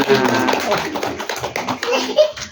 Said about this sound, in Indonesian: tepuk tangan lagi untuk anak-anak